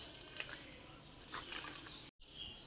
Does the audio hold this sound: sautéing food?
no